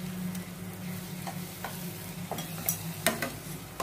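Onion paste frying with turmeric in a pan for a village-style spicy mushroom curry, a steady low sizzle with occasional stirring scrapes and clinks, close and alone without talk.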